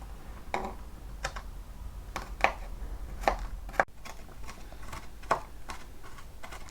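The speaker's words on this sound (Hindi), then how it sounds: "लहसुन को बीच में से 2 कर लिए थे, तो इन्हें बारीक छोटे पीसेस में काट के डाल लेते हैं" Knife chopping halved garlic cloves finely on a board, a string of sharp separate taps in an uneven rhythm, close and fairly quiet, with no talk.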